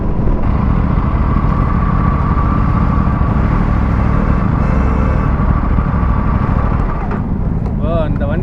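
A group of motorcycles rides together on a Sunday morning along the ECR road, a steady dense engine and road roar holding throughout, close and loud, with no clear breaks.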